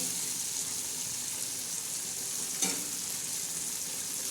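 Dangar bhaji, a green vegetable dish with peanuts, red chili powder and turmeric, sizzles steadily in a pan. A constant bright frying hiss runs throughout, with one brief clink of stirring midway and no talking.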